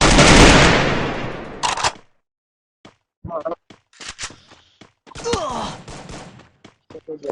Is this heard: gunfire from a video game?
yes